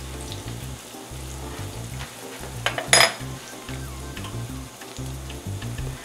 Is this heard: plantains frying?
yes